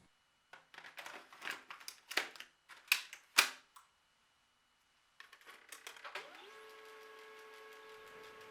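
A Samsung laser printer with a freshly refilled D101/D111 toner cartridge prints a test page: a series of sharp clicks and clacks, then after a pause a steady mechanical whir with a rising motor tone, close and fairly quiet.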